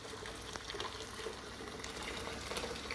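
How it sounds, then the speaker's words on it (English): Boiling water pours from a full kettle into a big pot, making a steady, faint rushing splash that continues throughout. "I'm go straight in with my boiling water from the kettle."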